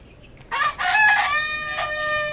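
A rooster kept with a flock of hens lets out a single loud crow close by. It rises quickly and holds a long, drawn-out tail, with no talking over it.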